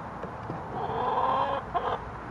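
Backyard hens being put to bed at night give soft, close clucks and a drawn-out, wavering call in the middle, with a short squawk near the end; no talk.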